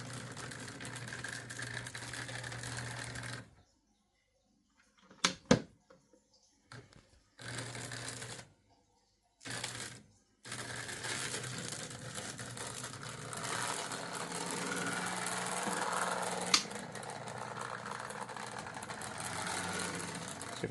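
A vintage 1960s Marx HO F3 model train locomotive motor runs with a small buzzing whir, cutting out several times into brief silences and clicks before running on steadily, close and fairly quiet.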